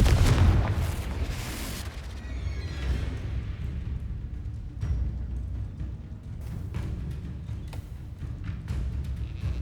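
Confringo spell explosion in Hogwarts Legacy: a loud, heavy blast at the start that rolls into a long rumbling tail, with smaller crackling bursts and thuds scattered through the following seconds.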